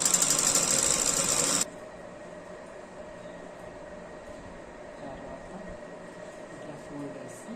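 A sewing machine stitching a designer blouse whirs loudly and steadily for under two seconds, then stops, leaving a faint room hum while someone talks quietly.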